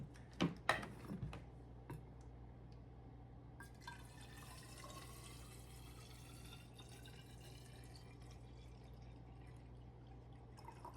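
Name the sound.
filling a water bottle with cold water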